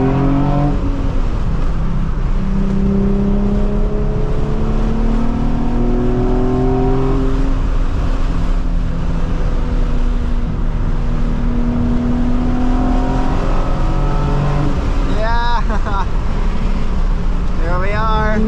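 A Nissan 350Z accelerates hard on a freeway, its engine note rising steadily through the gears with brief dips at the shifts, loud and close throughout under continuous road and wind roar.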